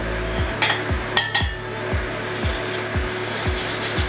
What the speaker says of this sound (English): We're gonna do some oroshi. Grate the daikon.